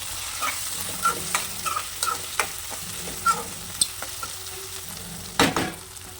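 Brinjal, drumstick and tomato curry being stirred in a pan, with spoon scrapes and knocks at irregular intervals over a soft simmering sizzle, one sharper clatter near the end.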